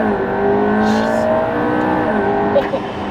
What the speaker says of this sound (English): I just want to hear those turbos over and over again.